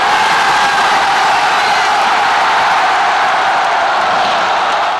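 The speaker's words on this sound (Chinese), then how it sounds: "球迷拍打打气棒，手持区旗，呐喊声、鼓声、掌声不停为香港打气" A packed stadium crowd of Hong Kong football fans roars steadily at an East Asian Games final against Japan, a loud, dense wall of shouting and cheering that never lets up.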